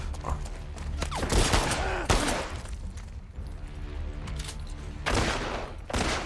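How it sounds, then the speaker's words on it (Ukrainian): Bursts of rapid gunfire crackle and boom in clusters over a dense, noisy backdrop of battle sounds in the video game The Last of Us Part II. "Хто стріляє?"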